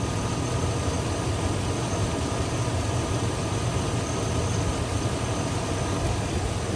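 A 2001 Chevy pickup truck's V8 engine idles steadily and smoothly, rumbling continuously with an even low drone and no revving, close by and alone.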